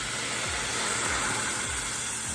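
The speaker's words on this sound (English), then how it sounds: "To this, I'm gonna start adding the broth." Broth hits stir-fried vegetables in a hot pan, giving a loud, continuous sizzling hiss that stays steady throughout, with faint rhythmic low thumps underneath.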